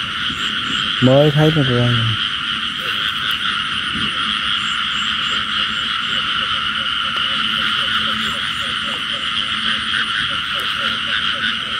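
Frogs croak without a break across a flooded field at night, a dense, loud, rattling chorus. One nearby frog calls a few times early on, and someone speaks briefly over it.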